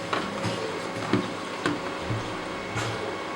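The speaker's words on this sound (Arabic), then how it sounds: "الآن هذا الصوت اللي جاي تسمعونه هو صوت الماكينة تشتغل" An electric welding machine, just connected to power, runs with a steady mechanical hum and faint buzzing at moderate loudness, continuous throughout with no speech.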